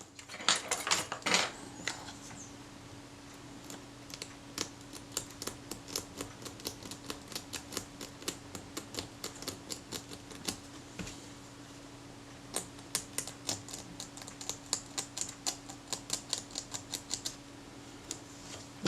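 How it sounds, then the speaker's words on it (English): A Retina IIa camera being partly dismantled while hardened crud is scraped from its leather covering, heard as a close run of sharp, rapid scratching ticks in uneven bursts over a low steady hum, with no talking. "I can see the lumps of crud here in the leather, so I've got to scrape that out."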